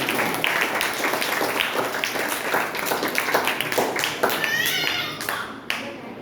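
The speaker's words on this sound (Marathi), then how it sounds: "टाळ्या वाजवा. तुमच्यासाठी टाळ्या, तुमच्या मुलांसाठी टाळ्या आणि तुमच्या आजी आजोबांसाठी टाळ्या." An audience at a parenting workshop in a school claps hands in dense, fast, continuous applause that stays loud and tapers toward the end, with a voice briefly rising over it.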